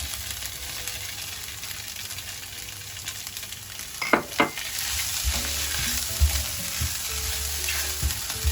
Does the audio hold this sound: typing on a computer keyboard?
no